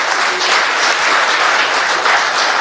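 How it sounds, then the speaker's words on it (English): A town hall meeting audience in Gumeracha, South Australia breaks into steady, full applause, many hands clapping densely and evenly at close range with no one speaking over it. "give him another round of applause"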